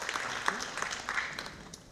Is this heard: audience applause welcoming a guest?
yes